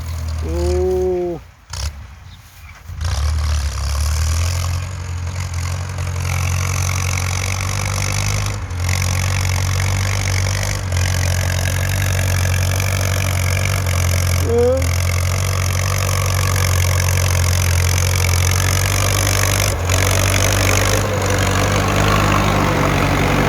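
A Ford 6600 tractor plowing a grassy field, its diesel engine droning loud and steady throughout with a deep low rumble, briefly dipping near the start.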